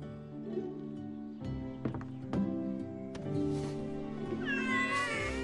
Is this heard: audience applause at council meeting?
no